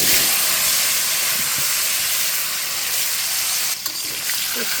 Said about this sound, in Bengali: তেল গরম করে দিয়েছি, আর এর ভিতরে রাঁধুনি জিরা কালো জিরে দিচ্ছি